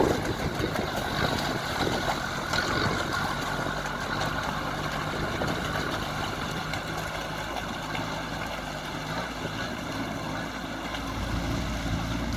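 A Sherp amphibious ATV's engine runs steadily throughout, a loud continuous droning rumble with whining mechanical noise and wind, no pauses or talking.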